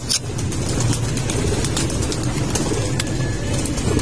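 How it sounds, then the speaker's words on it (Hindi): Pigeons coo softly on a rooftop in Kashmir after rain, against a steady background rumble of traffic and engines. "कबूतर कबूतर भी मौसम इंजॉय कर रहे हैं"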